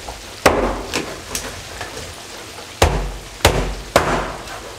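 A knife chopping through Lahori-style masala fried fish on a board gives a series of sharp, irregular thuds and knocks, each with a short decaying tail, close and loud with gaps between strikes.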